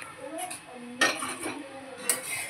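A metal plate set over a heated pan as a lid gives a couple of brief clanks and scrapes close by, between quieter rattles.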